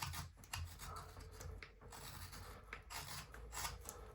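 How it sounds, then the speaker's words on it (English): A knife carves away the corner of a wooden cat figure, producing a continuous faint rasping and scraping with short uneven strokes at close range. "You take the knife and you just carve away that corner, like so."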